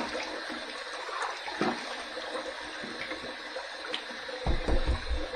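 Razor rinsed under running water during a wet shave, a steady close splash and trickle from the tap with a few louder gushing bursts near the end.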